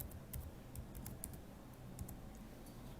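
Faint, sparse clicks of computer keyboard keys being pressed one at a time, irregular taps close by against a quiet room hum.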